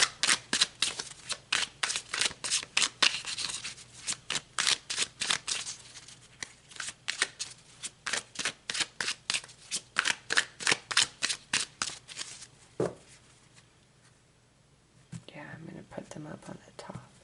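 Tarot cards shuffled in rapid riffling bursts, a long run of crisp flutters close to the mic, then a pause and a short softer shuffle near the end.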